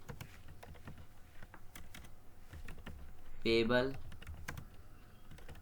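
Clicking of a computer keyboard while entering loan details into an Excel spreadsheet, steady soft keystrokes under a voice speaking Hindi, with a brief louder burst of sound midway.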